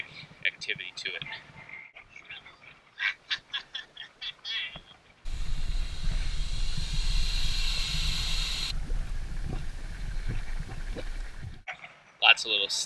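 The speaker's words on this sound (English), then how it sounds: "Some actually pretty aggressive bubbling." Volcanic hot spring vents hiss and roar steadily at close range, a dense broadband rush lasting several seconds, framed by brief bursts of talk before and after.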